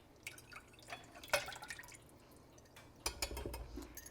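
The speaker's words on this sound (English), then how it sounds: "I'm going to go ahead and pour the rest of it in there." Reserved pork loin cooking liquid is poured into a pan, heard as soft, close trickling and dripping splashes that come in short bursts with small pauses.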